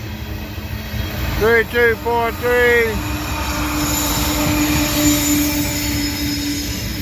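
A freight train with distributed power locomotives rumbles steadily past in dynamic braking, a long low drone with brief horn-like tones early on while a voice reads out numbers.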